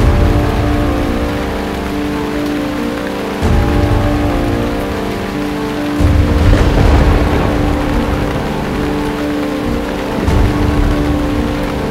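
Steady heavy rain hisses across surfaces, dense and unbroken, with a few louder surges and low rumbling swells beneath the downpour.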